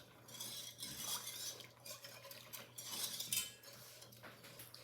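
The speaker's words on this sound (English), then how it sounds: "we're going to start stirring our custard before it thickens up" Banana pudding custard is stirred in a pot on the stove, a utensil scraping and swishing steadily against the metal, soft and continuous with a low hum behind.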